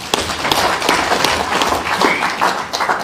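An audience claps for the Lord Bishop at a church gathering, a dense, steady round of applause with crisp individual claps that stays loud and close for its whole length.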